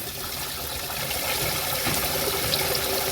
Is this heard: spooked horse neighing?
no